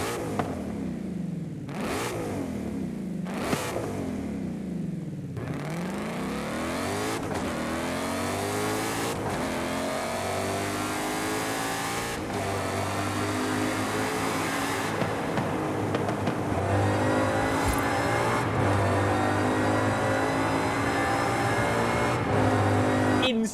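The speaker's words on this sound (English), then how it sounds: "a supercharged V8 Ford Raptor with 700 horsepower" A 700-horsepower supercharged V8 Ford Raptor R in Forza Horizon 5 revs hard with rapid throttle blips, then settles into sustained loud acceleration through rising gears with a deep, raspy supercharged roar.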